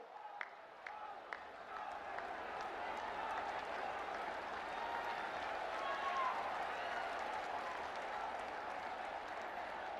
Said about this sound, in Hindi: आप सब तालियों के माध्यम से जुटेंगे